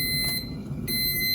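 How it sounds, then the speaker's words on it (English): A kitchen appliance gives a steady high electronic beeping tone that cuts out briefly and returns, close and clear, with no talking. "I want it to stop beeping at me."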